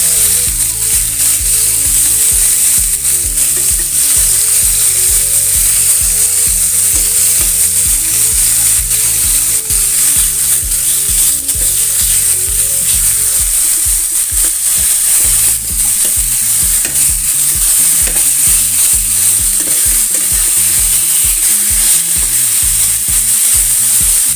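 Chicken sizzles and fries in a non-stick Teflon pan, a loud continuous crackle with rhythmic scraping and stirring of a utensil against the pan bottom, and no voices.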